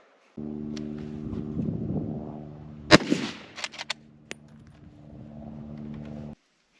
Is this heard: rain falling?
no